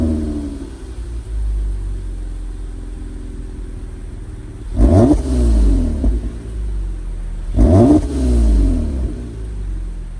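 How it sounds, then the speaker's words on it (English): Toyota Camry TRD with a TRD-tuned catback exhaust idles with a low steady rumble, then revs sharply twice, each blip rising and falling back to idle, close and fairly loud with no talking. "It does have a TRD tuned exhaust, catback exhaust, which does actually sound pretty nice."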